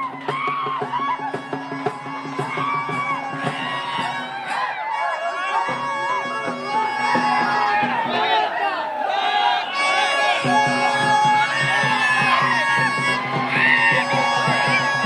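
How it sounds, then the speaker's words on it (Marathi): A large crowd of Maratha protesters fills CSMT station in Mumbai, a dense, loud roar of voices with shouts, whoops and chanting swelling continuously throughout. "मात्र आंदोलनकर्त्यांची मोठी गर्दी या ठिकाणी दिसते"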